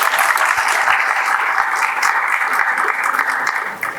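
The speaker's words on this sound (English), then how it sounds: "Can you give her a big applause?" An audience at an artificial intelligence symposium in India claps loudly and steadily, a dense sustained applause close by throughout, with no clear voices above it.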